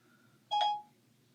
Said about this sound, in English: Hey Siri, set timer for 10 minutes.